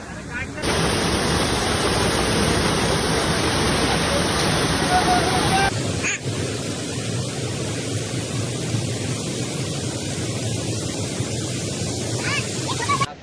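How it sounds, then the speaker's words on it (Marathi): Loud, constant rushing roar of a waterfall in Adarai forest fills the whole stretch, dropping a little in level partway through; no clear voices stand out. "वरतून हा बघा अशा प्रकारे हा धबधबा येऊ लागला"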